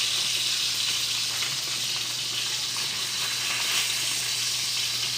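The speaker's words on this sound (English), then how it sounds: "The second side does not take long to cook the salmon fillets." Salmon fillets sear in a hot pan with a steady, loud sizzle and crackle that holds evenly throughout, with no talking.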